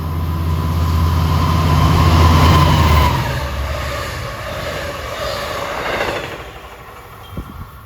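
LIRR diesel train passing Forest Hills station, a loud, low engine drone and whining tone that peak early, then fade into the rattle of cars and wheel noise as it moves away.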